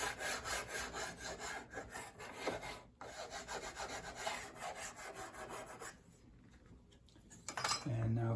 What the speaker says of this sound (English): I confess I have resorted to a sandpaper file